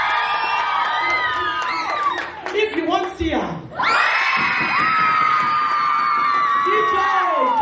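Loud crowd of young people cheering, whooping and shouting at a Samoan youth break-up party in Canberra, with a short dip in the middle before the roar picks up again and holds. A voice speaks over the noise.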